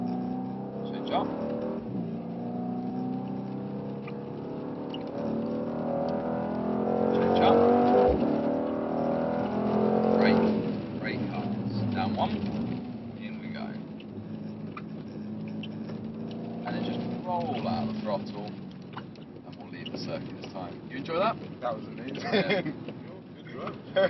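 A Mercedes C63s is driven on a race track, its engine rising and falling through gear changes and braking, heard from inside the cabin beneath near-constant talking.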